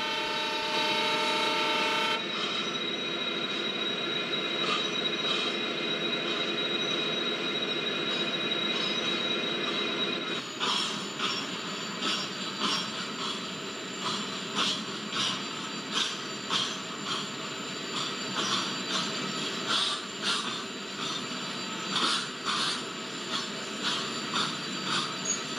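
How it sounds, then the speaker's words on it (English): Ro-Ro freight train in an MSTS/Open Rails simulator, hauled by twin WDG4 diesel locomotives on a curving route, with a steady rolling rumble and persistent high wheel squeal, then a denser rhythmic clatter of wheels over rail joints. "Enjoy the beautiful curving action of Roro train."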